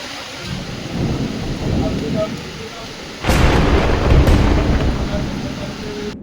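A rainstorm breaks out at an outdoor wedding venue set with chairs: steady rain hiss grows sharply heavier midway, with a loud crack and rumble of thunder, and faint voices sound beneath the downpour.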